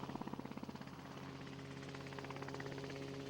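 A helicopter flies over rugged Mexican desert mountains during a wildlife census, its rotor beating in clear rapid pulses at first and then blending into a steady, faint, distant drone.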